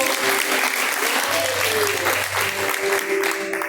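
A congregation claps hands together in a church praise service, a dense, continuous burst of applause close by, with a voice and sustained tones carrying over the clapping.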